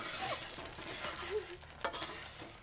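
Food stir-fried in a pan in a home kitchen gives a steady close sizzle with scraping stirs, heard alone without talk.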